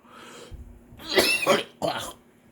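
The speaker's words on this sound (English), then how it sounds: "I feel another cough." A single person coughs a few times close up, a harsh throaty burst followed by a shorter second cough.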